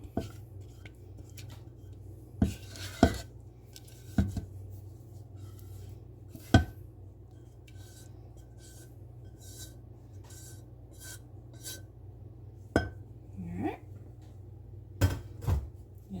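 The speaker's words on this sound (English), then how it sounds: "Just make sure you scrape all the sides and the bottom." A spatula scrapes Black Forest cake batter from the sides and bottom of a mixing bowl, with faint intermittent scrapes and a few sharp knocks against the bowl spread across a quiet background.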